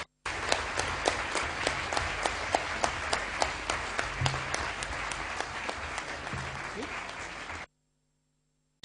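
Audience applause for Lionel Jospin after a debate at Dauphine, a steady wash of many hands clapping with some sharper individual claps, sustained for about seven seconds before stopping abruptly.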